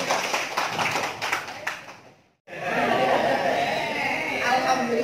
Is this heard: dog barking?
no